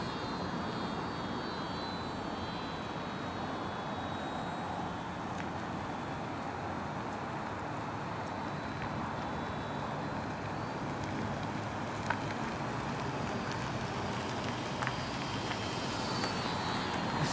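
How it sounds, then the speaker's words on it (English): Steady broadband roar of a T-28 aircraft engine on a high-speed flyby, a continuous wash of engine and wind noise holding fairly level throughout with no voices. "It's on a high-speed flyby."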